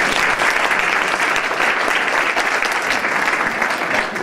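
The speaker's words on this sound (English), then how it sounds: "Let's give her a round of applause." An audience at an educational forum and panel discussion breaks into loud, steady applause, many hands clapping continuously before it starts to thin out at the end.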